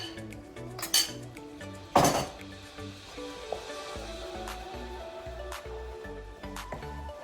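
A utensil scrapes and clinks against a pan as tomato puree is stirred into Kashmiri chicken masala with onion and spices, with two louder metallic knocks over a faint sizzle.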